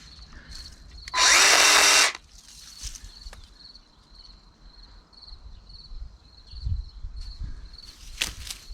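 A Dnipro-M CS-12 cordless chainsaw cuts through wood in one loud, dense burst lasting about a second, then falls quiet to faint outdoor background with a high insect-like whine and scattered small knocks.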